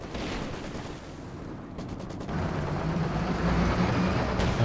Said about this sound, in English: Airburst shells from the LEFH, huh?